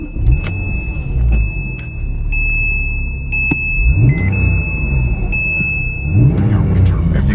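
Engine of a 2009 Porsche 911 Carrera 2 with 65,000 miles, heard close and steady with a couple of blips in revs, plus a high whine and clicks from the car, while a person talks over it.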